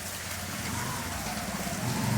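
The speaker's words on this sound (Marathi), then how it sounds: "अरबी समुद्रामध्ये कमी दाबात आपल्याकडे पाऊस पडलेला आहे" Heavy rain from a low-pressure system over the Arabian Sea falls as a steady, even wash of noise, faint and continuous with no speech.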